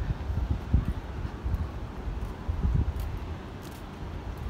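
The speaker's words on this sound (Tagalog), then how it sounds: "Gusto ko yung hangin niya dito" Wind gusts buffet the microphone in low rumbling bursts by a spiral bridge in a garden at Lohas Park, rising and falling irregularly over a steady outdoor background.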